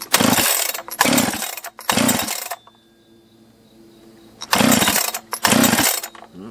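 A Jonsered 2071 chainsaw, restarted with a little choke, fires in loud bursts: three short revving runs, a quiet idle gap, then two more roaring bursts close by.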